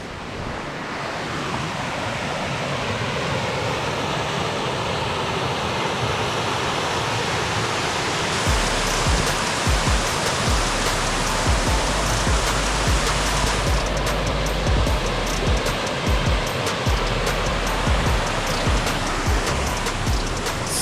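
Noisy River in Oxford district, Manchester, Jamaica, gives a steady, full rush of flowing water close by, with wind buffeting the microphone in bursts during the second half.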